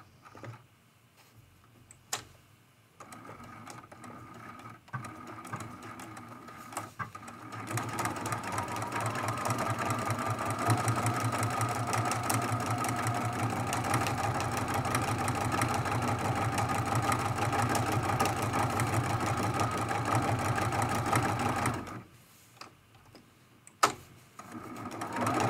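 A sewing machine hums at a steady mid pitch while stitching an art quilt, starting after a few quiet seconds and running continuously for most of the clip before stopping near the end with a sharp click.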